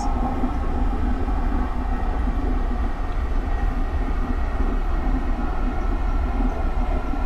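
A SEPTA GE Silverliner IV electric commuter train runs steadily on the Trenton Line in Train Simulator 2019, a continuous loud rumble and whine of motors and wheels on rails, unbroken and without talk.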